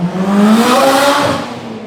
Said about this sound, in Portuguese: aproveitar que a moto já passou